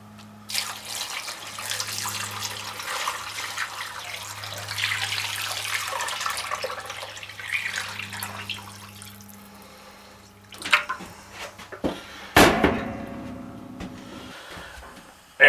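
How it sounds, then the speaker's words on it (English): Water runs from a tap into a cooking pot to cover chicken for mole, a steady splashing pour for about ten seconds, followed by a few clanks and knocks of the pot. "we're going to cover it with water"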